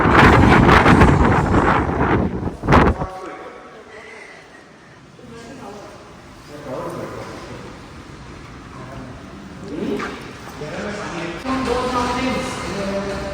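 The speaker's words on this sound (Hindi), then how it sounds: "और अभी यहाँ पे इतनी हवा चल रही है" Strong gusting wind buffets the microphone outdoors at a hot-spring resort in a Kazakhstan border town, a loud rumbling roar at first that eases and then rises again, with voices talking faintly underneath.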